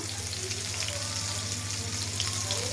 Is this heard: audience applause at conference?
no